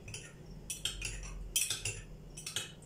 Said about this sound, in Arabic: هحط معلقة الخل اهي على البيضة واضربها كده عشان ايه افكها من بعضها كده